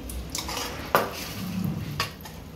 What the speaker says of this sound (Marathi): आता मस्त अशी चटणी टाकते